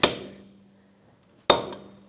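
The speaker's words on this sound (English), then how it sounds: "I'll take a punch, and you just put it right on that spot," Two sharp metallic hammer strikes on a punch stake the axle nut on a rear CV axle of a 2013-2018 Toyota RAV4 2.5L, each a loud close clang ringing out, spaced about a second and a half apart.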